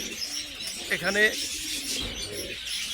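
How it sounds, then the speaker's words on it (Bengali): Pigeons coo softly at a home pigeon farm keeping Rajgolla and Gorra breeds, a few low throaty calls and faint chirps close by under someone talking. "আর নিজের বাসার কবুতর এগুলো সবই, যে কবুতর এই যে দেখতেছেন, এই যে কবুতর সব।"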